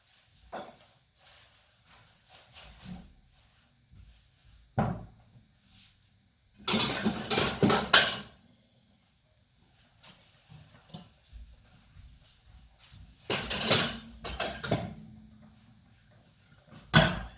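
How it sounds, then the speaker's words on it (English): Lids go down over trays of focaccia dough with scattered clicks and knocks, plus two longer bursts of rattling, scraping plastic, all fairly close and set apart by quiet gaps. "I'm going to cover them with lids."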